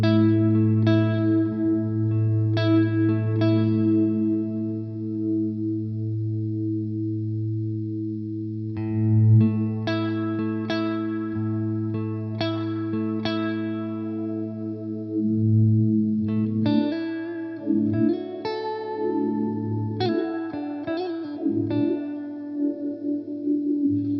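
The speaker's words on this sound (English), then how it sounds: "In HP mode, the Cirrus has a closing high-pass filter." Guitar played through a Cirrus reverb and delay pedal in HP mode, its closing high-pass filter shaping sustained chords and picked notes into washy, modulated ambient tails, with no talking.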